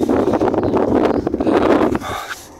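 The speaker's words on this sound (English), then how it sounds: "Kind of windy," Wind gusting outdoors on a morning under an open sky, a broad steady rush buffeting the microphone, then dropping off sharply near the end.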